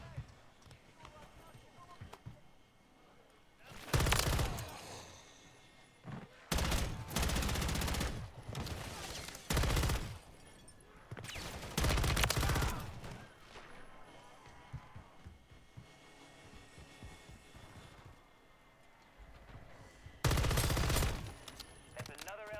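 Gunfire in Call of Duty MW3 Zombies comes in several loud, separate bursts and volleys over a busy, continuous game background.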